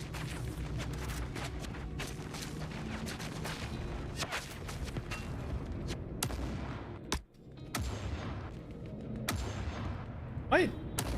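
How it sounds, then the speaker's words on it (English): Sustained gunfire from the shooter game Forever Winter, with rapid overlapping shots and distant artillery-like booms rolling on continuously, a brief drop midway before the firing resumes. "Stop shooting me."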